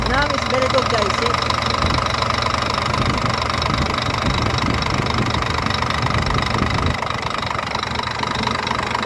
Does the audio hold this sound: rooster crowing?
no